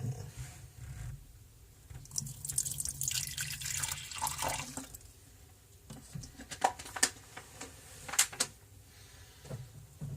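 Water is poured into a banana python's enclosure, a close splashing and trickling pour followed by scattered drips and small splashes, with quiet handling noise in between.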